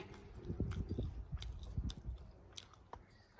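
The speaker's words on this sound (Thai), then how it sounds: "ข่อยบ่รอเราแล้วข่อยกินก้อนเลย" Close, wet chewing and biting while eating catfish larb, a Thai minced fish salad, with a few soft squishy bites in a steady uneven rhythm and no talking.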